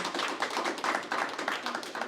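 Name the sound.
audience applause for speaker Sarah Peterson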